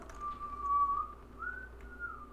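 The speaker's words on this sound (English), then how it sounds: "Why are you whistling?" Person whistling a short, clear tune of sustained notes, a steady pitch that then slides, heard alone and fairly close.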